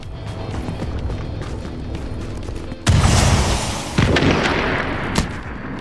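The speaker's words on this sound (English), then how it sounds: "Somebody threw a grenade." A grenade detonates in the shooter video game The Division, a sudden loud boom followed by a second blast amid background gunfire and combat noise.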